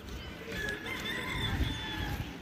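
A rooster on a farm crows faintly in the distance, its call partly buried under steady outdoor background noise.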